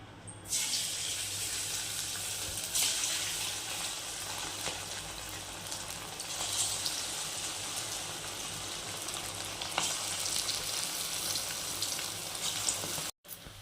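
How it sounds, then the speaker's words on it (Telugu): Chicken pakoda coated in cornflour and egg deep-frying in hot oil on a low flame, a steady, dense hiss of bubbling oil filling the whole stretch with a few sharper crackles, no talking. "మనకి చికెన్ పకోడా వేసిన తర్వాత ఒక 2 minutes దాన్ని ఏమీ టచ్ చేయకూడదండి"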